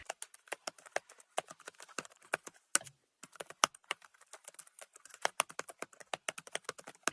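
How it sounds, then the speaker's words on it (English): Rapid typing on a computer keyboard while writing code, a string of crisp close key clicks in quick irregular bursts with a brief pause midway, quiet and alone. "Here, I'm typing a function to calculate the factorial of a number."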